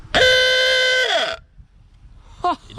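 A Simca 1100 car horn gives one long, steady, bright honk of just over a second, close and loud, followed by a short second toot after a pause.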